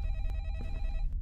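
A telephone rings in a horror video game, an electronic bell tone repeating close and clear across the short stretch, with no voices.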